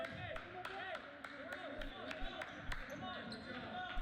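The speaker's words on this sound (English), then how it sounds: "Podzadowski's clapping" A basketball player claps sharply several times in a gym during a boys' high school game, crisp isolated claps spaced irregularly over squeaking shoes, bouncing and a commentator talking.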